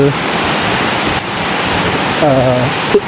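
Siriphum waterfall at Doi Inthanon in Thailand roars as a loud, continuous rush of falling water close by, and a voice briefly speaks over it.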